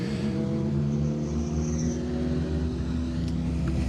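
An asphalt rally car on a closed road stage during a live championship event, its engine a loud steady drone with layered harmonics holding throughout, with a faint sharp tick near the end.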